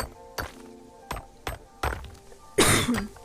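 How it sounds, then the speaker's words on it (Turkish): Several short, sharp coughs spaced about a second apart, followed by a louder, longer cough at the end, heard up close over faint background game music. "Öksürüğüm hala devam ediyor bu arada"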